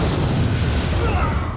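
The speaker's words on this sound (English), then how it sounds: "would you look at those explosions?" A loud, dense rumble of explosions fills the whole moment in the video game Metal Gear Rising: Revengeance, a continuous booming roar with no pauses.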